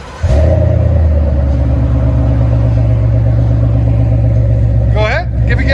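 A Ford Mustang with a Flowmaster muffler idles with a deep steady rumble, loud and close, and the revs rise briefly near the end.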